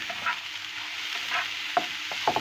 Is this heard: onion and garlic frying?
yes